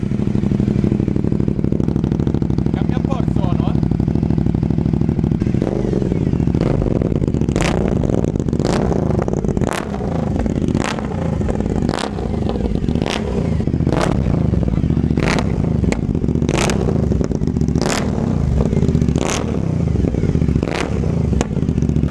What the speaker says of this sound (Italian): Riaccenderò quando lo scarico sarà operativo.